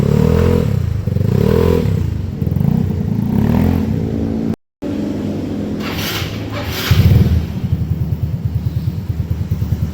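A Yamaha Mio 140 cc motorcycle fitted with a prototype exhaust revs up and down in several loud, close bassy bursts, followed by a rhythmic idling putter, with some scraping clatter nearby.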